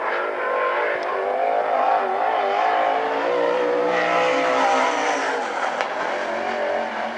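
Sprint car at a Western Sprint Tour qualifying run at the Central Washington State Fair, its engine howling loud and continuous as it enters turn one, pitch rising and falling with throttle, without talk.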